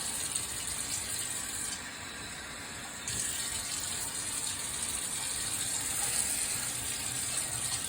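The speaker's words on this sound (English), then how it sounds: "I'm going to put a little bit water to clean up this plate" Tap water running steadily into a kitchen sink to rinse a plate while cooking green leafy vegetables, an even hiss lasting several seconds with a brief dip in flow midway, no voices.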